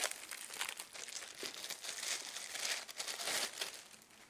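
A plastic bag wrapped around a new water filter crinkles and rustles steadily up close as it is pulled off and unwrapped, with several louder crackling bursts and no talking.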